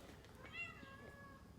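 A cat lets out a single soft, drawn-out meow, faint and at some distance, against a quiet garage-like background.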